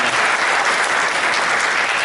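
An indoor audience at a Gumi lifelong-education training event applauds a provincial councillor, with dense, steady clapping that stays loud and continuous throughout.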